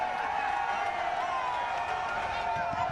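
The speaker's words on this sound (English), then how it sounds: "Cheers from the crowd" Crowd noise with cheering and scattered applause at a road construction project event, a steady dense roar of many voices throughout, loud and continuous with no clear individual words.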